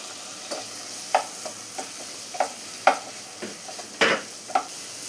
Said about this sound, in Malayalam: ഈ തക്കാളി നന്നായിട്ടൊന്ന് വഴറ്റിയെടുക്കാം